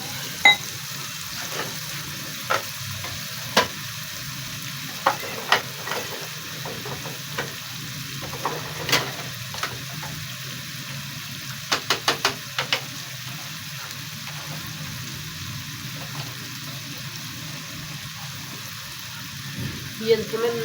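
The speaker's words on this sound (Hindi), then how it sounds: "ये थोड़ा सा पानी डाल देंगे ताकि मिर्च की बुनाई अच्छे तरीके से हो जाए।" Green chillies sizzle and fry in a pan after a splash of water is added, a steady hissing crackle broken by spoon scrapes and taps against the pan, while someone speaks nearby.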